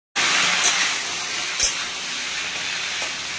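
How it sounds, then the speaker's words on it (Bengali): Steady loud hiss of steam escapes from food cooking in a covered pot, starting abruptly and holding constant with a couple of faint clicks, no voices present. "ভাপে বসিয়ে দিয়েছি, এবার মোটামুটি 15-20 মিনিট মতো সময় লাগবে।"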